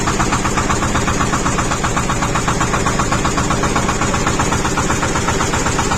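Engine idles steadily after an injection pump installation, a loud close rhythmic chugging with even pulses and no speech.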